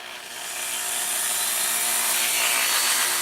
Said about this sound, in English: got a very fine point on the Dremel, and I've been using two hands to guide it